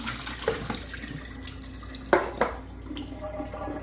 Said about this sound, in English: Let the water run over them and spread them out and rinse them really, really well.